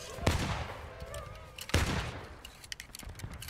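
Musket volleys from the War of Rights Civil War video game, at the Battle at Pipers Farm: two loud, crackling rolls of massed fire about a second and a half apart, then scattered lighter shots. Voices talk faintly underneath.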